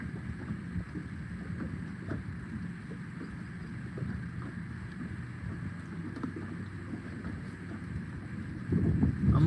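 Wind blows steadily on a river below an Ohio River dam beside a boat, a constant low rush of wind noise that swells slightly near the end, with no talking.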